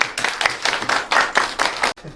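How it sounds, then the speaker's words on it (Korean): Audience members at a Korean panel debate on e-commerce job creation clap for the panelists in a short, close burst of uneven hand claps that stops abruptly near the end. "좀 박수 부탁드리겠습니다."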